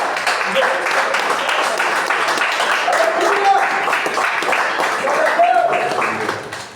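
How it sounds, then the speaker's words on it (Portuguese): A church congregation claps together in praise, a steady, dense wash of applause running the whole time with voices mixed in and fading at the end. "vamos aplaudir Jesus"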